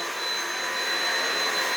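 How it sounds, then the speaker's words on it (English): A Hoover vacuum cleaner runs steadily at close range while being run over a bedroom wall during a renovation, a continuous broadband whine with a thin high tone and no pauses. "Did you ever think you'd vacuum a wall?"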